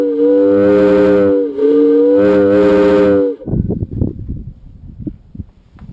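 Two long, loud blasts of a deep, chord-like air whistle made to mimic a locomotive whistle, on a 1959 GMC Cannonball truck with a Detroit Diesel, then scattered clanks and knocks as it stops.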